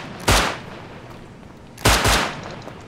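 Gunfire in the survival game Rust: two separate bursts of shots, the second a quick double, loud and fairly close with quiet gaps between them.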